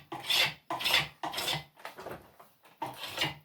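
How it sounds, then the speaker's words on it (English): A spokeshave smoothing the taper on a wooden chair leg, six rhythmic rasping strokes about half a second each, close and crisp, with brief pauses between passes. "I'm just quickly going over this area with my spokeshave to try to get these"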